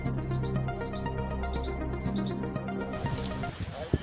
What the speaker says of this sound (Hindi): देखिए यहाँ पर नंबर डायल करते हुए यहाँ पर बेल जा रही है।